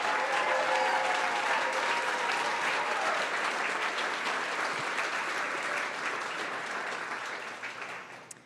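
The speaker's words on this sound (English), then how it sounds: "Let's do one more round of applause." An audience at the CyStarters Demo Day 2024 presentation breaks into a sustained round of applause, a dense, steady wash of clapping that holds for several seconds before gradually thinning and fading toward the end.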